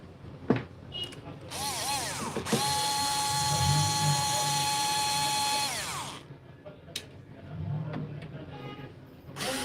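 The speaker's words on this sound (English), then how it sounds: "here we have two more screws to remove." A power screwdriver backs screws out of a Growatt solar inverter, a close whining motor that winds up and runs steadily for several seconds, framed by short ratcheting clicks and handling knocks.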